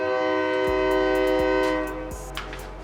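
A train passing through Bristol sounds a loud sustained horn chord close by, with rhythmic clacks of wheels over rail joints underneath as it rolls past.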